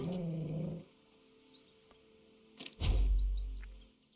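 Low, rumbling growls from dog units in a real-time strategy video game, a short growl at the start and a louder, deeper snarl near the end, with game effects in between.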